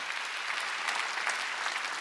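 A congregation claps during a Korean Wednesday church service, a brief burst of brisk, dense applause from many people, steady and close with no talk over it.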